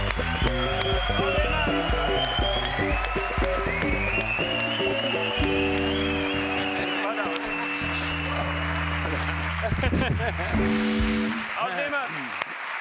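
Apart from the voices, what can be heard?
studio audience applause welcoming a guest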